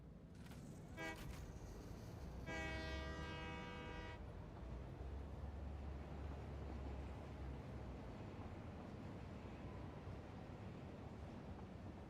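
Train in the video game Satisfactory running, a quiet low rumble of rolling wheels with a short horn blast followed by a longer sustained horn toot early on, then steady faint running noise.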